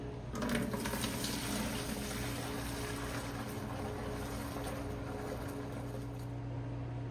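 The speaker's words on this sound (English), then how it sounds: "And then we'll dump off the dirty water" Dirty water pours out of a gold pan while panning for gold, a steady broad splashing and rushing wash that holds for several seconds at moderate level, with no talking.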